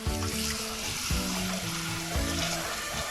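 Water is poured into a pot on a stove to boil organic multicolored carrots: a continuous close splashing and gurgling, with hissing and occasional clanks of the pot running throughout.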